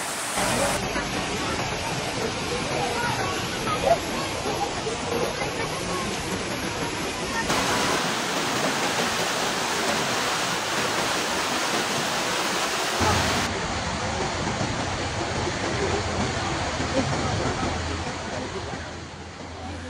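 Floodwater rushing through a swollen river after heavy rain in the Sirampok mountains near Bumiayu, Brebes, a steady roaring wash that continues throughout, with faint voices at times.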